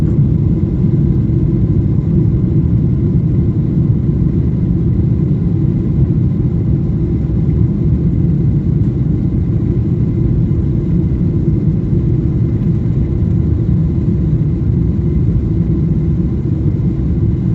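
Steady, loud low rumble of an Emirates airliner taking off from Dubai, a continuous engine roar heard without change throughout, no talk over it.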